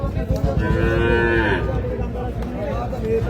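A crossbred cow moos loudly and close by at a cattle market, one long drawn-out low call, over a busy crowd murmur in the background.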